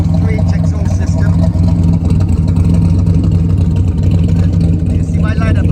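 Car fitted with a stainless steel 3-inch exhaust system, running loud and close with a steady, throaty low rumble.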